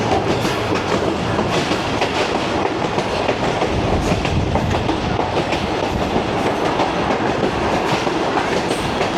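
The 38DN Fareed Express passenger train rolls steadily through countryside, a continuous loud rumble of wheels with rhythmic clickety-clack and rattling, heard from on board.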